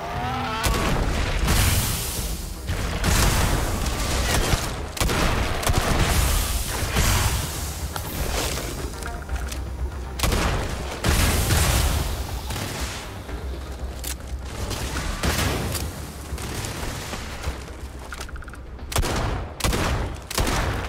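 Old Earth hunting rifle fires in the video game Starfield amid a dense, loud stretch of repeated gunshots and booms that carries on for about twenty seconds.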